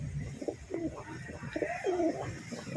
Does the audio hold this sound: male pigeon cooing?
yes